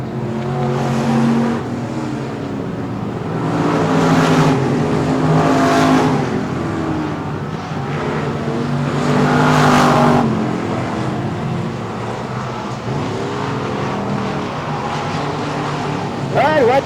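Race cars circling the track at Texana Raceway Park during a summer showdown night, engines swelling and fading as they pass, loud and continuous beneath an announcer talking throughout.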